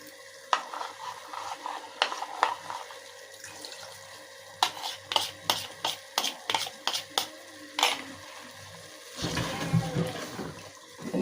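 Water poured into a pan of simmering Matumbo tripe wet fry, a steady splashing pour near the end following a run of sharp clicks and stirring knocks, no talking.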